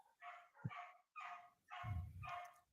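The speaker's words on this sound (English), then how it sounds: "is that your dogs? Yeah, they go crazy." Several dogs bark in quick bursts, four or five sharp barks, faint and somewhat distant, heard alone.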